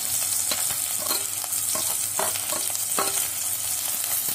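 Masala of chili, garlic, curry leaves, ginger, peppercorns and cashews dry-roasting in a pan for green egg curry, with a steady close sizzle and repeated light scraping taps of a spoon stirring throughout.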